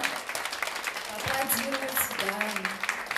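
Audience applause at a concert for a quartet, a steady wash of clapping under a speaking voice throughout.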